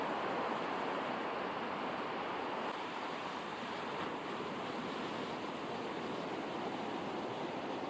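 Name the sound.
ocean waves at Praia do Cepilho beach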